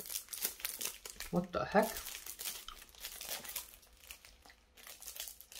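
A plastic-wrapped package being handled while someone tries to open it, close crinkling and rustling that starts and stops throughout, with a person talking over it.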